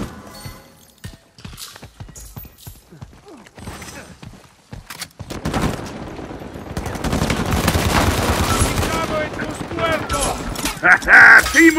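Suppressive gunfire in Uncharted: The Lost Legacy: after a quieter stretch of scattered shots, dense automatic bursts build into a loud, sustained barrage, with voices shouting over the fighting.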